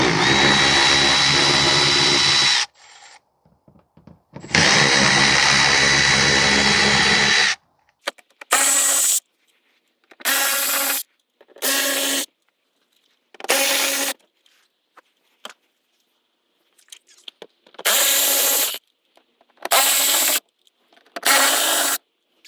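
A power tool spins out T25 screws from the transmission of a 2014 Volkswagen Tiguan 2.0 TSI, two long close whirring runs followed by several short bursts separated by quiet pauses and small clicks.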